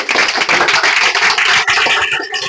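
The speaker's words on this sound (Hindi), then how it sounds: "जोरदार ताली बजाओ भाई" Loud, dense clapping from students in a maths coaching class, a continuous burst of many hands that holds steady and then thins slightly near the end.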